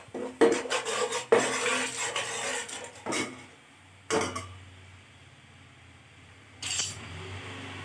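A utensil stirs chili powder in a pan, giving a few close scraping, rasping strokes with metallic clinks, then quieter pauses broken by single scrapes, with no talk.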